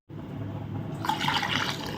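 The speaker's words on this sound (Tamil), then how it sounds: "இப்போ இந்த சாம்பாருக்கு வந்து கொஞ்சம் இன்னும் கொஞ்சம் தண்ணி ஊற்றிக்கலாம்" Water pours steadily into a pot of sambar, a rushing splash that brightens and fills out partway through.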